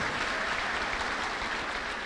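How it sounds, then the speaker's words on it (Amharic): A church congregation clapping together in worship, a dense steady wash of applause from many hands, moderately distant and continuing without pause or voices. "እስቲ አጨብጭቡ ለጌታ ለኢየሱስ ክርስቶስ ክብር"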